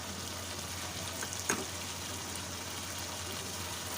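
Whisked yogurt goes into a hot karahi of Peshawari Shinwari mutton, giving a steady soft sizzle of frying with one brief clatter, faint and continuous.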